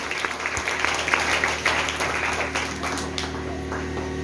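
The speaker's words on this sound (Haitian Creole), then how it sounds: "Ça mérite applaudissement." Applause from a church congregation, steady and moderately loud throughout, with some voices mixed in.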